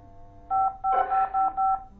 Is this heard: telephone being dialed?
yes